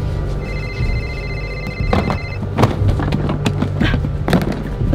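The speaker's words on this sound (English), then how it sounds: "Is that someone's phone ring?" A phone rings from somewhere inside a wall, its muffled tonal trill repeating in bursts beneath close thumps, taps and handling noise in the room.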